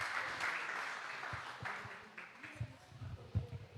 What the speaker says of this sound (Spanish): un aplauso bien fuerte para los hermanos que se atrevieron